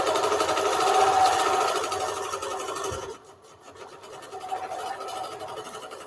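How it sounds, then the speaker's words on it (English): A sewing machine stitches a straight line across quilt blocks. It gives a steady, close, buzzing mechanical whir for about three seconds, then stops, leaving quieter handling noises. "we're just going to stitch a straight line all the way from left to right on top of these blocks"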